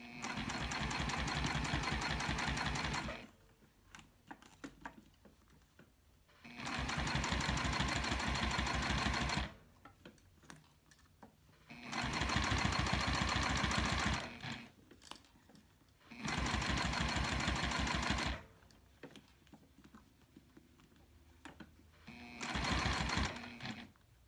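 A sewing machine topstitches Sileather fabric in four or five steady mechanical runs of a few seconds each, broken by quiet pauses while the shifting material is realigned.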